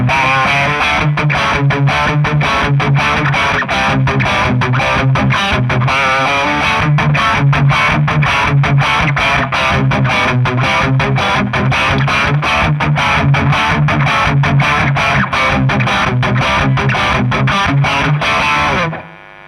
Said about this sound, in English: because I want to try it as a distortion pedal.